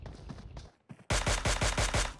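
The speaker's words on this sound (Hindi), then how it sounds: "ये धना धन चला रहा है गोलियां, बट अभी किसी को भी मार नहीं पाया।" Gunfire in PUBG Mobile: a rattling burst of automatic shots, then after a short gap a louder, very close string of rapid evenly spaced rounds, with no talking.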